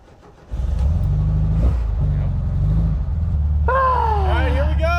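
Volkswagen Beetle-engined MG TD kit car, a 1952 replica, attempting a burnout: the engine revs up to a steady loud drone nearby, a wavering squeal rising over it toward the end.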